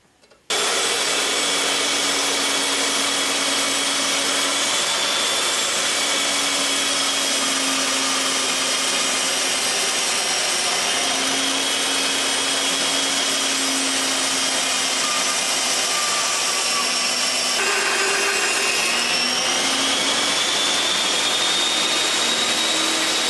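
A power saw rips a wooden board lengthwise down the middle, cutting stock for a mini computer speaker box; a steady loud machine whine runs continuously from start to finish with slight pitch shifts near the end, no talking.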